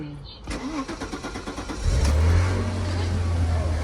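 A 2002 Audi A4 V6 with its engine cover removed starts up: starter cranking for over a second, then the engine catches and settles into a steady, loud idle.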